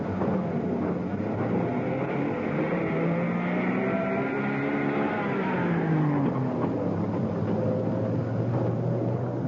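A lorry carrying concrete mix drives about a power station construction site, its engine a steady, loud, droning rumble whose pitch rises and then falls as it works, with no talk.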